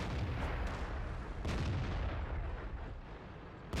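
Tank guns fire in the World of Tanks game as heavy booming blasts with long rumbling tails, the first two rounds a beat apart and then another cannon shot, loud and dense with no talking.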